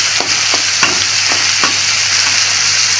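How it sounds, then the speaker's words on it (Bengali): Chopped tomatoes fry in a pan for a Bengali vegetarian pointed gourd curry, giving a loud, constant sizzle with regular scraping strokes from stirring, close up and without talk. "এই যেটা আমি মাঝখানে দিয়ে টমেটো একটু আর কি ভেজে ভেজে নিচ্ছি এইভাবে টমেটোটা"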